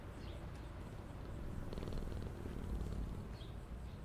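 A cat in the video game FNAF: Into the Pit purrs steadily while being petted, a soft, continuous rumble with no talking over it.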